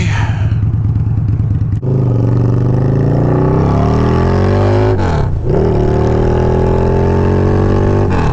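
A 2017 Harley-Davidson V-Rod Muscle motorcycle accelerates hard through its gears, engine pitch climbing in long rising sweeps with brief dips at each shift, loud and close throughout.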